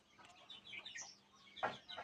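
Chickens cluck softly in a village coop, a few short, faint calls spread across the moment with quiet pauses between them and a slightly louder burst near the end.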